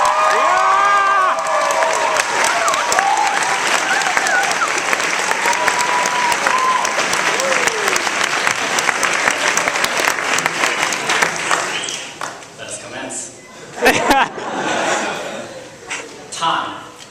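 Loud, sustained applause from a high school graduation audience welcoming the valedictorian at Fort Garry High School, with cheers and scattered voices mixed in, fading after about twelve seconds into lighter clapping and murmurs.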